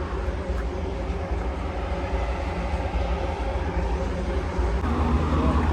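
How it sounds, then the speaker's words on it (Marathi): A passenger train pulls in at a station platform on a Kazakhstan-to-Uzbekistan cross-border route, its steady, close, loud rumble and rolling clatter filling the whole stretch without pause. "आपली ट्रेन आलेली आहे."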